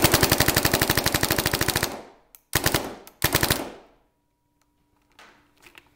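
A Tippmann 98 Custom paintball marker with a response trigger fires a long rapid burst of sharp, evenly spaced shots, followed by two shorter bursts, then quiet with faint handling noises; no talking.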